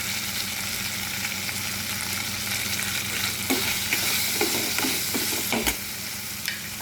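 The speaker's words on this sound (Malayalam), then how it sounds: "നല്ലതുപോലെ ഒന്ന് വഴറ്റണം. അതിലോട്ട് കുറച്ച് ഇഞ്ചിയും വെളുത്തുള്ളിയും ചതച്ചത് കൂടി ഇട്ട് കൊടുക്കാം." Crushed ginger and garlic sauté in a hot pan, giving a steady loud sizzle with occasional stirring scrapes and clicks near the end.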